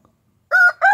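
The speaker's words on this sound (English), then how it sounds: "So here's the chicken coop." A rooster in a farm chicken coop crows loudly and close by, two strong tonal bursts after a moment of near silence.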